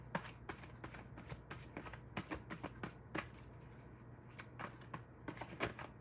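Tarot cards are shuffled by hand in quick, irregular bursts of crisp riffling and flicking, faint and close, with a low steady hum underneath.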